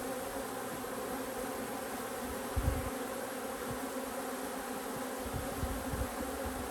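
Honey bees drone steadily inside a hive box, a dense continuous buzz close to the ear with a few low knocks from handling the box.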